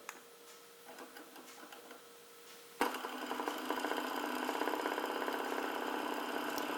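Mini Aero Ringbom Stirling model engine, heat-powered, running near 1000 RPM: a quiet, fast mechanical ticking that jumps abruptly louder partway through, then continues as an even rattling whir.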